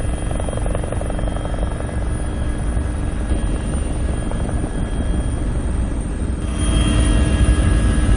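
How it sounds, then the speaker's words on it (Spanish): A firefighting helicopter flies over a wildfire between Arafo and Candelaria, its steady rotor drone and engine rumble loud and continuous, swelling slightly near the end. "uno de los helicópteros que participan en la extinción del incendio"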